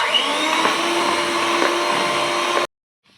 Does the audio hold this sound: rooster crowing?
no